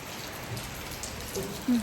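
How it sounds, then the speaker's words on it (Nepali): Rain patters steadily in a soft, even wash, with a couple of faint low knocks near the end. "पानी पर्यो"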